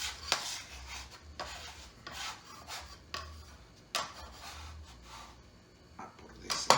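Spinach and ricotta gnocchi dough is scraped together into a single ball on a work surface, producing steady close rubbing and rasping strokes in repeated bursts with no talking.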